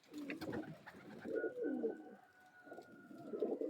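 A pair of Magnet-generation pigeons from an old bloodline cooing close by, several soft, throaty rolling coos in short bursts with quiet gaps between.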